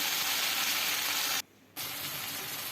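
Onion-garlic paste sizzling loudly in a pan, with a steady bright hiss that cuts out for a moment and then comes back as water is added.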